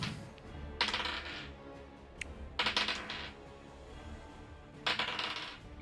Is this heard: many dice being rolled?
yes